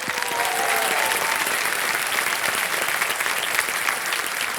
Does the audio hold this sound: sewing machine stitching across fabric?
no